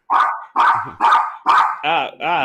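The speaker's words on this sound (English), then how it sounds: "the dog's just wanting to defend you in your honor" A dog barks six times in a steady rhythm, loud and close, each bark a sharp burst separated by brief pauses, the last two more drawn-out and tonal.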